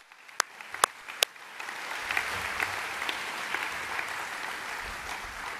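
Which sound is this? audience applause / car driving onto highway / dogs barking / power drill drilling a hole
audience applause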